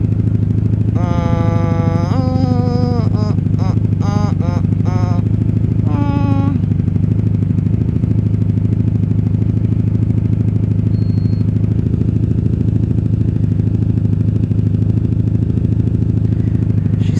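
A rebuilt 1997 Honda Magna 750 VF750C, freshly fueled with non-ethanol gas, idles with a steady, close, low rumble; a few short tonal sounds occur near the start.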